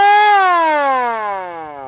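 An air raid siren winds down from its peak, one loud continuous wailing tone with strong harmonics sliding steadily lower in pitch and fading slightly over about two seconds, heard alone.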